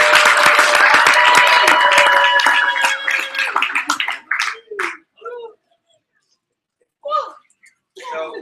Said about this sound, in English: can we give a big round of applause for Mr. Andrew Evans?